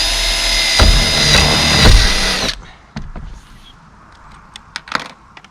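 A power drill whirs loudly for a couple of seconds, then stops, followed by scattered clicks and light knocks, while driving screws into a metal roof during a house build.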